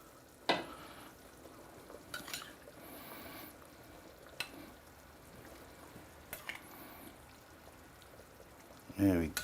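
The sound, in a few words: lamb added to curry sauce with yogurt marinade in pan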